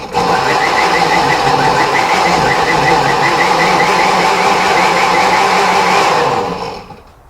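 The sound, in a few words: food processor pulsing salsa ingredients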